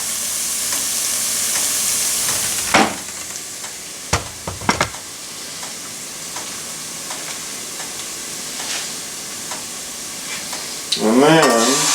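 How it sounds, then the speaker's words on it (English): Garlic fries in a pan for a chickpea and potato curry, with a steady close sizzle broken by a few sharp stirring scrapes and knocks, then a brief bubbling burst near the end. "so I just let that cook until it starts to color, until the garlic begins to change color a little bit."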